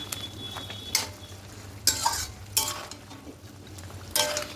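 A spoon stirs potatoes into chicken curry in a pan, making a series of near scrapes and clinks against the metal over a quiet, low sizzle, with short bursts spaced a second or so apart.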